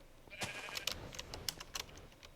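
A black wool sheep in a modded Minecraft-style game bleats in short, clear repeated calls close by, with no talking over it.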